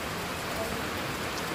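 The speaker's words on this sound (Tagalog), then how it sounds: "Grabe ang lawak ng ulan." Heavy rain pours steadily, a dense, loud hiss of drops drumming on surfaces that never lets up.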